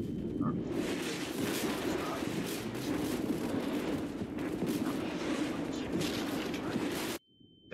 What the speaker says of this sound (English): Oh, these are our artillery.